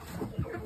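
Young game-bird chicks being treated for red mite give a brief, soft cluck or two against a faint background.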